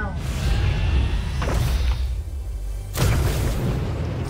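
A Kamehameha energy blast in Fortnite: a loud booming burst with a whooshing rush, a second surge hitting about halfway through, over a dense game soundscape.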